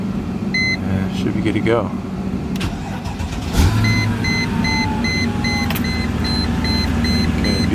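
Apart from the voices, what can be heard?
Mercedes ML55 radiator cooling fans running on high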